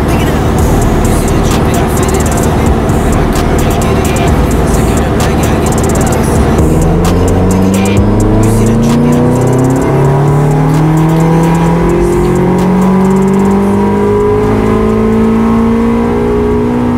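A tuned Subaru car engine running on nitrous oxide revs hard and loud, its pitch climbing in repeated sweeping pulls that rise and fall over the whole stretch, with broad exhaust and road noise underneath.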